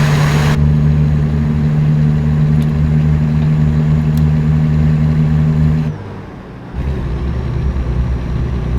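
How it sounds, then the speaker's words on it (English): A PACCAR heavy truck engine in American Truck Simulator drones steadily with a deep, constant hum, then dips briefly before the lower rumble carries on. "the PACCAR engine sounds for the Kenny and Peterbilt, like I said, I've always liked that sound"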